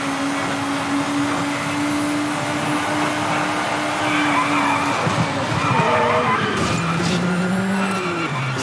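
A Norma rally car in V-Rally 4 drives flat out, its engine droning steadily near and loud, with tyres skidding and squealing through the second half as the pitch shifts.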